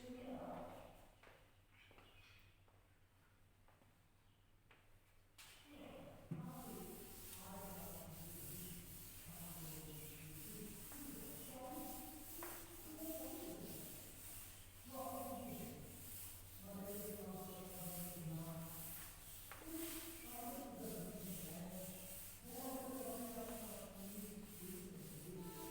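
A teacher rubs writing off a classroom board in steady repeated back-and-forth strokes, a dry scrubbing rasp that carries on for most of the span over a constant low hum, with no talk.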